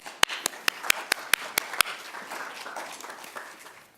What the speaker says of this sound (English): let's give a warm round of applause for Sean.